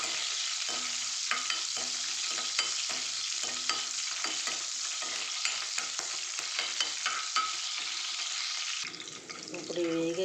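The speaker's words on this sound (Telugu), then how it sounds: "పచ్చిమిర్చి కొంచెం ఇలా వేగాలండి" Slit green chillies fry in hot oil in a pan for a fish curry, giving a steady close sizzle broken by repeated stirring scrapes, with the texture changing near the end.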